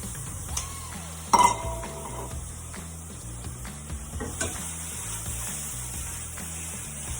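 Mushrooms and tomatoes frying with onions in a pan, a continuous close sizzle with a brief clatter and clink as the vegetables drop in, then steady frying.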